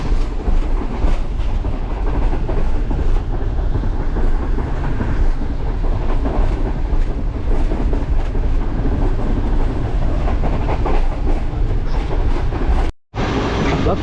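The Karakoram Express runs at night between Karachi and Lahore, heard from aboard as a loud, constant rumble with rhythmic clatter of wheels on rail, briefly cut near the end.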